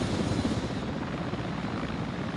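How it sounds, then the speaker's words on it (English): An Mi-24 helicopter in a video game roars with a continuous, loud, steady rotor and engine drone that holds evenly throughout, with no voices. "Is that the MI-24?"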